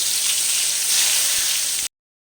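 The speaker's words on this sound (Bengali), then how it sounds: "এবার এই তেলের মধ্যে বেগুনগুলোকে দিয়ে দিচ্ছি" Eggplant pieces hit hot oil in a pan that has just fried potatoes, giving a loud, steady, close sizzle that runs for almost two seconds and then cuts off abruptly.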